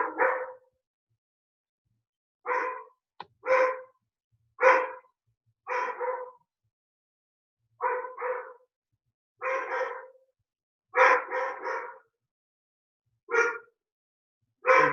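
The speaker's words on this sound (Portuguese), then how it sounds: "Minha cachorra não para de latir." A dog barks over and over indoors, in short single and double barks separated by quiet gaps of a second or two. The barking is fairly close, with no voices.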